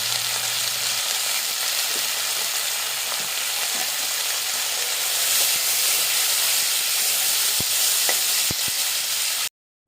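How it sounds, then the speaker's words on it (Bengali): Yardlong beans frying in a pan with salt and turmeric, a steady loud sizzle and hiss throughout with occasional stirring clicks, cutting off abruptly at the end. "হালকা করে একটু লবণ আর একটু হলুদ দিয়ে বরবটিগুলো একটু হালকা করে ভেজে নেব"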